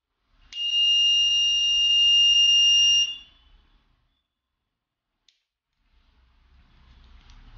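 A piercing electronic buzzer from a GSM/GPS vehicle theft detection system sounds alone for about two and a half seconds as a steady tone, then stops, leaving near silence with faint low hum.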